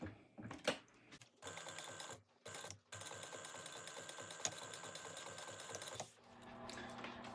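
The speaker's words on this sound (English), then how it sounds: "I just do a little line back and forth a couple times." A sewing machine runs in several bursts, stitching a short line back and forth through bag webbing, with brief pauses between runs and a rapid, steady needle rhythm up close.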